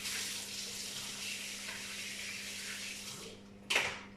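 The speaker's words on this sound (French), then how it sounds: "je vais la rincer." Tap water runs steadily over a measuring spoon being rinsed in a kitchen sink, a continuous close hiss that cuts off near the end with a brief clatter.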